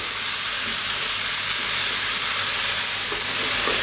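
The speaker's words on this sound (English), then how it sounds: "We want to really cook these tomatoes down." Tomatoes cooking down in a hot pan for a zucchini spicy tomato bake, giving a steady, loud, unbroken sizzle and hiss of frying moisture with faint stirring underneath and no talking.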